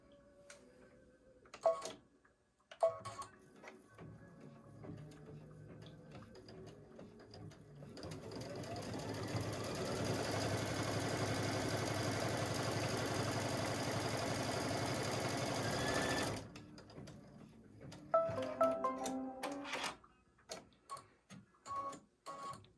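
An embroidery machine with fabric in a hoop stitches a single line, a rapid mechanical whirring and ticking run lasting several seconds, framed by quieter handling clicks and faint voice before and after.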